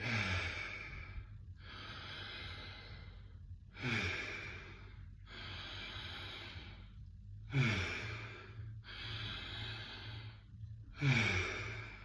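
Conscious connected breathing during a breathwork session: four deep, audible breath releases arrive in a steady rhythm, each a long airy sigh with a short quiet gap before the next, close and fairly soft with no talking.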